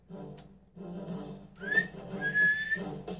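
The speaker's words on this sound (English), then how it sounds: "Victory whistle." Victory whistle in the Coal Express 2 train video game, a bright rising steam-whistle tone with a second sustained blast, moderately loud over soft game music.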